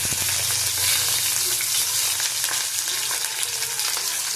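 Pieces of rohu fish, salted and set aside, sizzle and crackle steadily in hot oil in a pan, a loud, continuous frying hiss with no talking.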